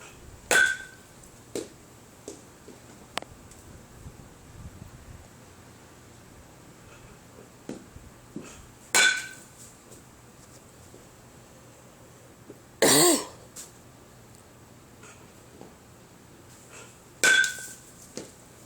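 Four sharp cracks of a baseball bat hitting line drives during a two-ball batting practice drill, spaced a few seconds apart, with quiet clicks and light handling noise between hits.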